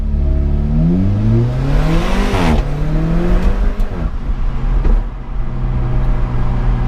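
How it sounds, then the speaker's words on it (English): Alfa Romeo 4C Spider engine revs up through rising gears, with a sharp throttle blip around the middle and a loud, close exhaust drone continuing steadily afterward. "A quick blip into dynamic and the throttle response really tightens up"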